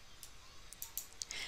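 A computer mouse gives a few quick, faint clicks in a quiet room, a small cluster of sharp ticks with no talking.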